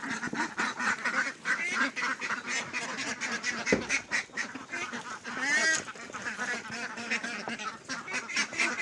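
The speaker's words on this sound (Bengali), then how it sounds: "চলেন হাঁস সব বের হয়েছে এখন আমি যাই" A flock of ducks kept in an enclosed farm quacks loudly and continuously nearby, with overlapping calls and no talking.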